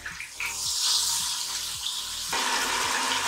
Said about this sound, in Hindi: थोड़ा सा पानी ऐड करेंगे ताकि ये अच्छे से फ्राई हो जाए।